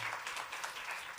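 Brief burst of applause welcoming a visitor during a Korean Sunday church service, steady clapping from a congregation at moderate volume with no talk over it.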